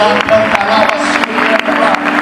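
A church congregation claps, a dense patter of many hands filling the space at moderate loudness, while a voice carries on over the applause.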